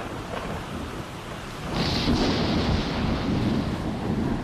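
A thunderstorm with heavy rain pouring steadily and a deep rumble of thunder swelling midway, noisy and continuous throughout.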